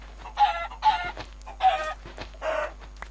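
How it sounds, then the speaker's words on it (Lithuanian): Chickens cluck in four loud, close bursts with short gaps between them over a faint steady hum, and no voices are present. "Kiek čia tų vištų? Opa, 3 vištos."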